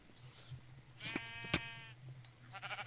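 Sheep bleating in the Minecraft video game, one clear harmonic bleat mid-clip over a low steady hum, with fainter bleats and soft clicks around it and no talk.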